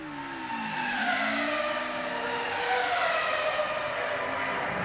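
A Formula 1 car in the F1 2003 video game at the Spanish race pulls into the pit lane, its engine whine steady and loud with pitch sweeps as it slows, over continuous game noise.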